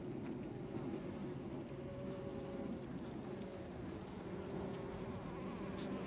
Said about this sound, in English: Enough teasing the bees.